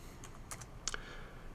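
A few faint clicks of computer keys while typing in a telnet interface, sparse and quiet against a soft background hiss.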